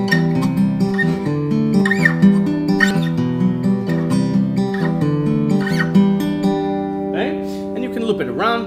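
Fingerstyle guitar riff, an arpeggiated clean pattern of plucked notes looping steadily and close, played alone at moderate loudness.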